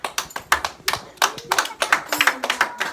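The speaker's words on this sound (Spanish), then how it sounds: "Denle un aplauso al Señor." A small church congregation clapping, a sparse, uneven patter of individual hand claps close by, loosely rhythmic and tapering over a few seconds.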